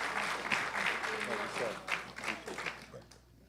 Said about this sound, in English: So let us give a round of applause for Mr. Baksh.